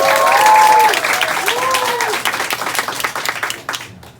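An audience at a business seminar applauds in a loud burst that begins at full strength, mixed with a few voices and whistle-like tones, then slowly thins into scattered claps before stopping.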